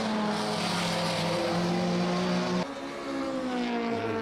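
Touring race cars roar away at the start of a race in Riga, a loud, steady pack of engines revving together, with a gear change audible partway through, no talk over it.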